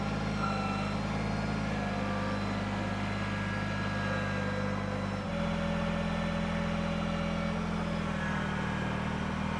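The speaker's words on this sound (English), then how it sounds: "So here it is, the Harbor Freight Plate Compactor." Harbor Freight plate compactor engine running steadily nearby in a garage, a constant low drone with a slight shift in tone partway through, no talking.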